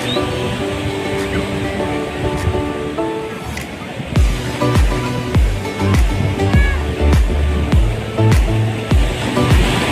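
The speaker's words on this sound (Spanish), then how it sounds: "Las olas, miren las olas." Ocean waves break and surge on a beach at Mazatlán, Mexico, with loud rushing wash and repeated crashing swells close by, while brass band music plays over them.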